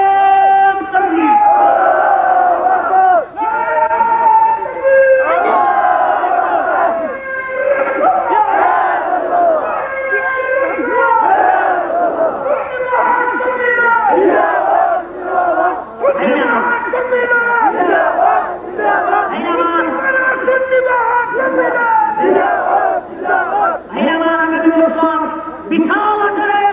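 A large crowd at an Islamic mahfil gathering chants the takbir in answer to a leader's call: loud, repeated unison shouts in a rhythmic call-and-response that carries on without pause.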